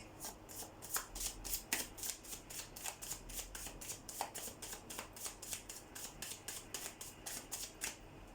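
Card deck being shuffled by hand, a steady run of quick riffling flicks and snaps lasting throughout, fairly quiet and close with no talking.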